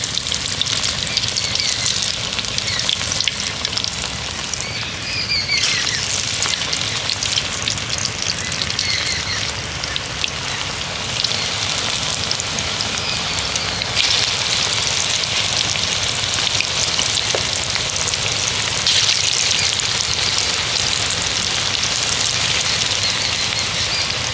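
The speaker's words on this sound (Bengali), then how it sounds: "একই রকমভাবে বাকি পকোড়াগুলোও ভেজে নেব।" Steady, loud crackling and sizzling of potato and onion pakoras deep frying in hot oil, continuing without a break and with no voices.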